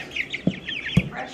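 Cornish Cross chickens cluck in two short, close bursts over soft background chirping.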